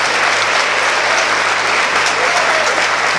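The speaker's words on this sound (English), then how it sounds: "Let's give Wallace Community College a round of applause." Audience applause at a presidential candidates forum at Wallace Community College in Selma, a loud dense wash of clapping throughout, close and unbroken.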